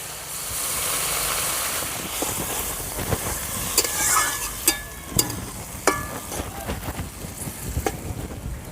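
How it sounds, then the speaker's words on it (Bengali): Red amaranth greens and small fish are stirred in a sizzling frying pan for a village-style curry, with a steady fry hiss and repeated sharp scrapes and knocks of the spatula close by. "মাছের সঙ্গে শাকগুলো ভালো করে মিশিয়ে নিলাম"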